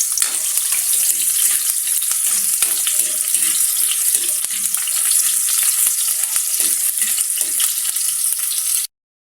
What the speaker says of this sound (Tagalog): Gisa na natin yung sibuyas tsaka bawang.